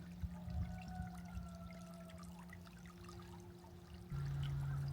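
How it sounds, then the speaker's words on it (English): Gentle water flows down over rocks outdoors in the morning, a faint, steady trickle heard alongside a low constant hum that grows louder near the end. "water coming down over the rocks this morning."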